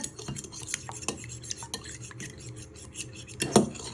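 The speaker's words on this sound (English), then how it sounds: "you want to get your fork and you want to start giving these a good whisk till they all break down" A fork whisks eggs with vanilla in a bowl, giving rapid scraping clinks of metal against the bowl in an uneven rhythm, close and fairly clear, with a louder clatter near the end.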